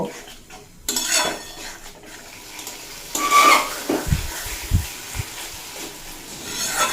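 Mustard paste with a little water stir-fries in a pan, a soft sizzle under scraping and clinking of a spoon on metal, with louder stirring bursts and a few dull knocks nearby.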